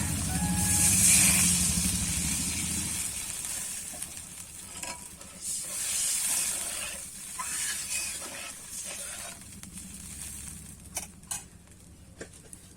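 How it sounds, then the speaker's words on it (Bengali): Fish curry of rohu simmering in a pan on the stove, a steady bubbling sizzle and hiss that is loudest at first and then settles into softer, patchy bubbling with a few light clinks near the end, alone with no talk. "মাছের ঝোলটা কিন্তু দেখো ফুটে গেছে"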